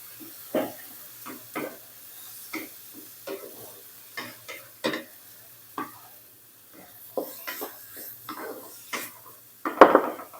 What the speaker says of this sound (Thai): ผัดให้สุกเลยค่ะ